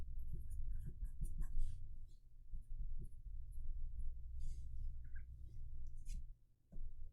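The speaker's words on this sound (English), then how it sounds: "I'm going to just write bruh over the flavor text." Marker writing on a Magic: The Gathering card, heard as faint, close scratchy strokes in short bursts over a low, quiet room rumble, with a brief pause near the end.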